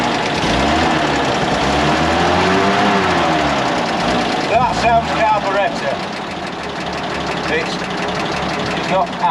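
A Bedford QL truck engine with a carburettor fault runs roughly, with a loud, uneven idle that surges and dips, close by, and a person talks over it partway through.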